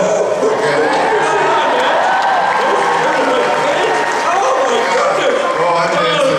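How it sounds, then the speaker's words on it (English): Comic-Con audience at a Simpsons panel (SDCC 2014) applauding and cheering: dense, sustained clapping and crowd noise filling the hall, loud and steady throughout, with voices mixed into the din. "Big round of applause, everyone."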